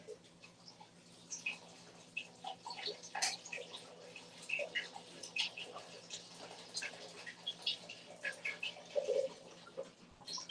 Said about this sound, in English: Broth goes in.